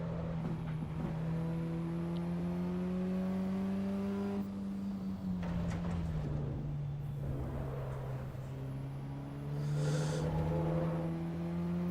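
A car driven in the racing game Assetto Corsa Evo, its engine holding a steady droning tone, then dropping in pitch mid-way and climbing again, with no talking.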